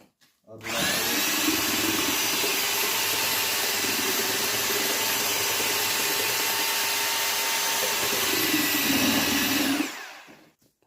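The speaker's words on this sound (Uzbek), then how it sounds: "Mikser bilan, toza mikser bilan" An electric paddle mixer whirs steadily through plaster mortar for about nine seconds, starting abruptly and cutting off at the end, loud and close, with a constant high motor whine over a churning rumble.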